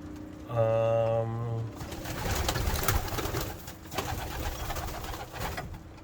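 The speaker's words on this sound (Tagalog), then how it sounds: "nagbabarako na yung young bird natin" A young pigeon gives a single clear, close coo with a male-style pitch, followed by rustling and faint background noise.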